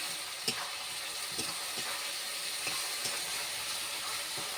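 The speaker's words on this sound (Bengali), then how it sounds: "আমি পুরো মাছের মাথাটা গুঁড়ো করে নিয়েছি এরপর আমি ভালো করে মিশিয়ে নিলাম" Crushed fish head being mixed with jackfruit in a hot pan gives a steady, even hiss of frying, broken every second or so by soft scraping stir strokes.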